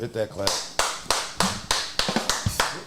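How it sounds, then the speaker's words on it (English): A clap sound effect fires from a soundboard in a podcast studio, a quick series of about eight sharp claps in a rapid, even rhythm, with a voice talking briefly at the start. "Hit that clap."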